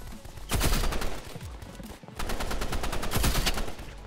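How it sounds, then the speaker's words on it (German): Sniper rifle fire in a Roblox Rivals match: two loud, sharp shots roughly three seconds apart, each followed by a rattle of rapid gunfire and echoing noise, with no talking. "Da unten sniped einer"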